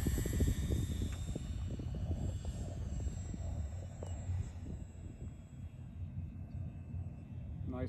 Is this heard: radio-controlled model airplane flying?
yes